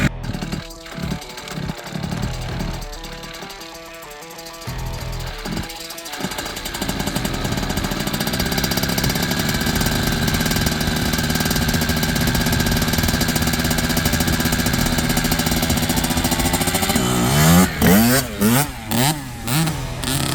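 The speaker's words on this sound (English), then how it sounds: "I got this race bike for Christmas, and I'm gonna fire it up and figure out the clutch." A 2025 motocross race bike engine kicks and sputters a few times, then catches and runs at a loud steady rattling idle before being revved in several sharp bursts, close by.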